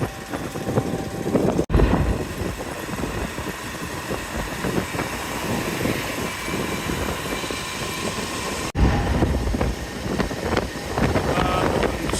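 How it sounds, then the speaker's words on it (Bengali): Wind sweeps across the middle of the Lalon Shah bridge over the Padma River, producing loud, continuous low rumbling gusts that buffet the microphone throughout. "বাতাস"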